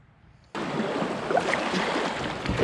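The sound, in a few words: river rapids while kayaking the Guadalupe River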